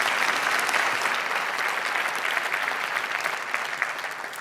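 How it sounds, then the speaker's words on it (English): An audience at a tech talk on web standards and augmented reality applauds with sustained, dense clapping that holds steady and then begins to taper off near the end. "Applause."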